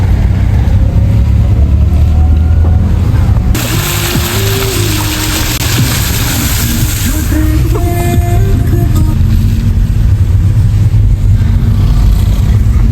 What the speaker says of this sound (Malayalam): റോഡവിടെ ഭയങ്കര കാറ്റാണ്